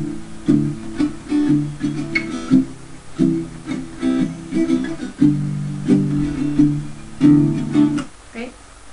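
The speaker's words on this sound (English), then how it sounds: "Hit the strings as you play, so it would sound like this." Acoustic guitar strummed with palm-muted strokes in a steady, choppy rhythm, pop song accompaniment played close and fairly loud, with no voices.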